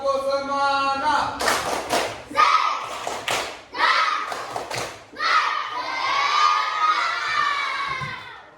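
A classroom of children doing the 'tepuk semangat' clapping chant, with sharp rhythmic claps and loud shouted chanting from many young voices, bursts of cheering between claps.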